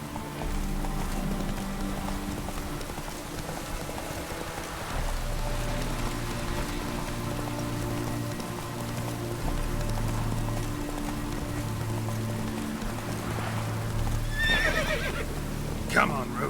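A horse in The Witcher 3: Wild Hunt neighs and whinnies over steady clip-clop hoofbeats while rain falls throughout, with a voice speaking briefly over the galloping and a sharper whinny near the end.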